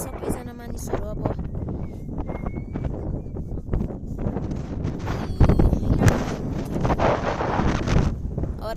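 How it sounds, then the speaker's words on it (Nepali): Strong wind gusts roar and buffet the microphone in a continuous broadband rush that swells louder toward the end, with people talking over it. "अरे यार कत्रो हावा चलेको"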